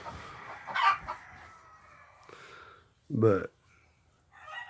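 A hen outside the coop, wanting to come in to her nest, makes two loud bursts of clucking calls separated by quieter stretches. A voice is heard briefly.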